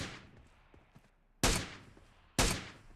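Two loud, sharp SLR rifle shots in PUBG Mobile, spaced about a second apart with ringing decay, preceded by fainter distant pops.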